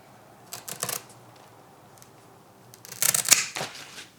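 Shears cut through the stem of a root-bound Monstera Thai Constellation plant, making two short bursts of crisp snipping and crunching, close and moderately loud, with quiet pauses between.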